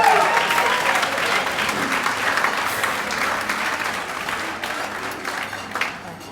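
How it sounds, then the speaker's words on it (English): An audience at an awards event breaks into steady, dense applause that fills the room, loud and sustained for several seconds before tapering slightly. "so give yourself a round of applause"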